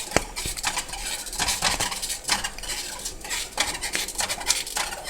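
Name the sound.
stirring strawberry jam with Certo in a pot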